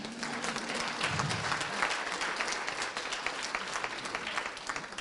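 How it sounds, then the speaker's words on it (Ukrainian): Audience applause rolls steadily through a hall after a speech, dense continuous clapping from many people with a faint voice underneath at the start. "всі аплодисменти були ініційовані в слушні моменти"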